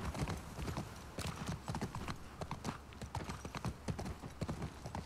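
Horse hooves clip-clop in The Last of Us Part II gameplay, an even trotting rhythm close by on hard ground over a low ambient rumble, with no other prominent sounds.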